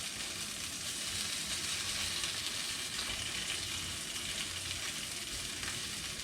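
Lamb liver frying in oil in a hot pan, a dense, steady sizzle running continuously and close without a break.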